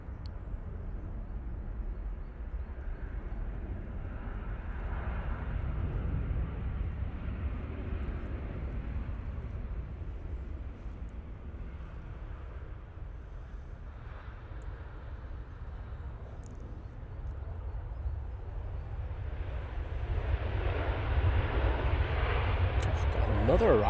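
A Ryanair airliner arriving inbound from Belfast at Manchester Airport gives a steady, broad jet-engine rumble that swells slightly toward the end, heard at a distance, with voices talking over it.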